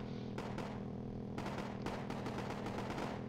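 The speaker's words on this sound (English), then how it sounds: "I'm going to start using the anti-aircraft guns instead of the missiles" Rapid bursts of anti-aircraft gunfire in Wargame: AirLand Battle, several clustered volleys of sharp cracks over a steady roar of battle noise, loud and close throughout.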